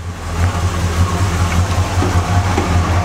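A lifted 1972 GMC Suburban 2500 3/4-ton 4x4 idles smoothly after a cold start, its engine a steady, even low rumble close by with no voices over it.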